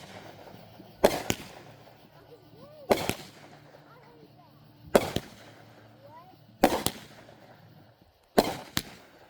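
Five loud fireworks or firecrackers go off at regular intervals, each a sharp crack with a quick double burst, while faint voices murmur between the blasts.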